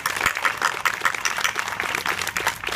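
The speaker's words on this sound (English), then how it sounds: "so continue up the hearty clapping" An audience at a school ceremony claps in a steady, dense ovation, loud and sustained throughout.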